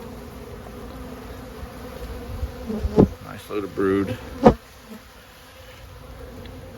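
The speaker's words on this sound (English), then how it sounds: "We all like to see some bees." Honeybees drone around a brood frame lifted from a spring colony, a steady close buzz running throughout while a person speaks briefly in the middle.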